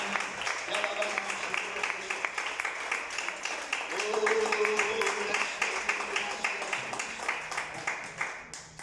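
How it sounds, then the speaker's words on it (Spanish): A church congregation claps at a morning service, brisk applause from many people that swells in the middle and then tapers off, with a faint musical tone sounding underneath. "Le da un fuerte aplauso al Dios Todopoderoso de esta mañana."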